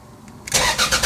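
A car engine cranks and catches after a VSV repair, giving a short starter whir that quickly turns into a loud, rough idle close by.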